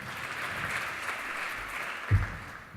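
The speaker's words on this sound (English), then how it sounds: "give him a round of applause" An audience at a talk on future infrastructure claps as a speaker comes onto the stage: a steady patter of applause at moderate distance, with one louder bump near the end.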